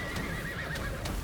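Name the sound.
horses whinnying from the Summoner skill in video game Lost Ark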